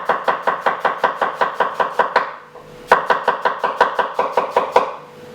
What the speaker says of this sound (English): Slice it up, nice and finely.